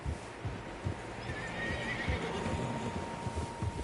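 In the video game Red Dead Redemption 2, a horse whinnies in a long, shrill call over a steady patter of hooves, with several animals moving together nearby.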